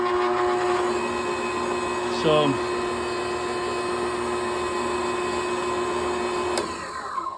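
A Bowflex Nautilus Treadclimber TC5000 motor runs loudly and steadily with a constant whining hum and tonal drone, a brief pitch sweep near the start, then an abrupt drop as it cuts off at the end.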